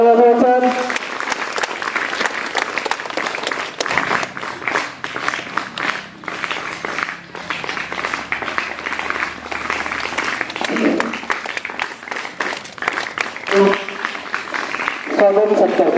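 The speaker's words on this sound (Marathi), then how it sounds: "सर्वांनी टाळ्या वाजवायच्या" Audience applause at a school National Science Day event honouring a science teacher with a bouquet, sustained clapping throughout with voices and crowd noise mixed in, moderately loud.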